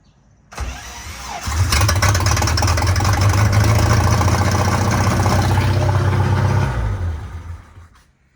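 An inboard engine on a pontoon boat cranks briefly, catches and roars to life, running loud and steady for several seconds before cutting out.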